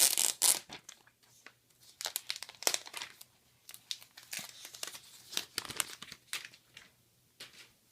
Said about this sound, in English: So now we have to take off this plastic right here, which is always a nice sound